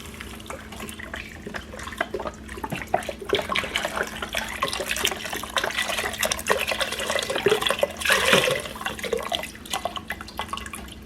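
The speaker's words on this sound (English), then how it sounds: "I'm going to pour in the vegetable broth." Vegetable broth pours steadily into a pan for around ten seconds, a continuous loud splashing liquid stream that swells briefly near the end, with no talk over it.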